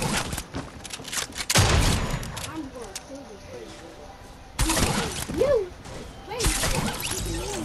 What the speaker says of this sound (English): Somebody's shooting at me from a mile away.